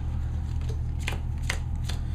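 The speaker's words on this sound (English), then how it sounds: "He's been shuffling." Deck of video game themed playing cards being shuffled, several quick riffling bursts over a steady low room hum, soft and close.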